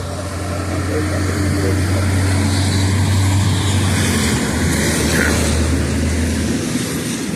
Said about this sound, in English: a seaplane over there just landed.